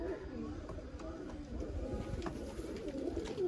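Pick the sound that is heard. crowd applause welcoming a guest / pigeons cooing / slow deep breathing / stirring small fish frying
pigeons cooing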